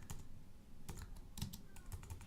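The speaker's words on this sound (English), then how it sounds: "what happens when we keep typing?" Computer keyboard typing comes in short irregular bursts of clicky keystrokes, close and fairly quiet, with brief gaps between runs and no talking.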